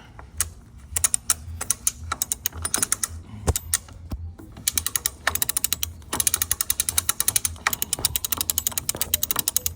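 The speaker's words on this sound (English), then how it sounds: "Winch rattles, everybody happy." A sailboat winch ratchets as a large winch lever turns it, giving fast, rattling clicks in bursts with brief pauses, close and loud, no voices.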